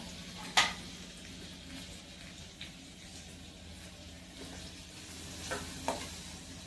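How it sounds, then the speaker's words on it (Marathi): Garlic, onion, cumin, mustard seeds and curry leaves frying in oil in a pan, giving a steady, soft sizzle with a few sharp crackles and stirring scrapes, without talk. "लसूण, जिरा मोहरी घातली तेलामध्ये, आणि लसूण आणि कांदा टाकला, कढीपत्ता"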